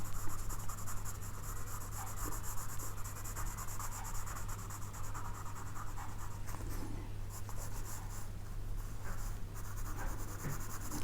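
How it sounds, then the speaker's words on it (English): A soft grade pencil shades light shadow on paper for a two-point perspective drawing, a close, steady scratching and rubbing that keeps an even pressure throughout with no talking. "I'm going to use a softer grade pencil for that with the tissue."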